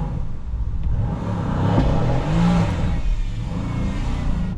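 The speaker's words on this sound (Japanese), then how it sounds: "ローンチコントロール早速やってみる。 音を聞いておいてください。" A Mercedes C63 engine revs hard during a launch control attempt, a loud sustained roar that swells and dips as it holds high revs, heard up close with no talking.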